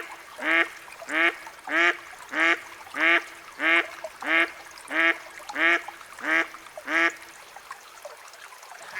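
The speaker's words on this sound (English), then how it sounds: "Mallard," A mallard duck quacks in a steady series of ten loud, close, evenly spaced quacks, alone with no talk, followed by quiet.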